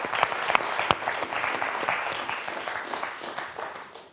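A studio audience on the French TV quiz show Questions pour un champion bursts into applause, a loud, full wash of clapping with a few sharper claps early on that gradually thins out over about four seconds.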